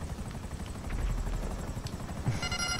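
A helicopter in GTA V Online drones steadily with fast rotor chop and engine whine, loud and close throughout, with no talk over it.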